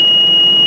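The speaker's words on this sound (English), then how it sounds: "You will hear audible beeps." A single sustained, piercing electronic beep sounds from the control panel of a Vermeer D36X50 directional drill, loud and steady for under a second.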